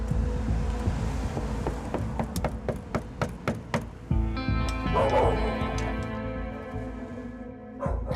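Two large dogs bark repeatedly at a tenant's door, a fast run of loud, close yaps and woofs that gives way to steadier barking with whimpering.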